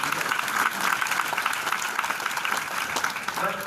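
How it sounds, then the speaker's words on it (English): Fairly quiet, continuous audience applause at an Amway business event, a dense patter of clapping that holds steady throughout and may have faint voices mixed in. "you can give a big round of applause."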